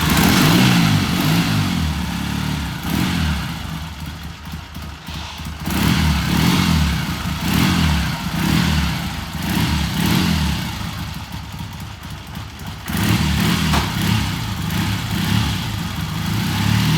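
A 1978 Triumph motorcycle engine runs during a road test ride, a loud, close, continuous mid-pitched drone that swells and eases with throttle, with no talking over it.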